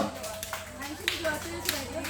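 An audience claps along at a lively Korean pumba-style trio stage show for elderly spectators. Brief scattered hand claps sit under a busy mix of voices and music.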